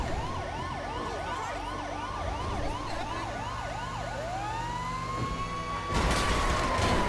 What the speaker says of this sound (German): Jetzt können wir die Sirene theoretisch wieder anmachen, ne?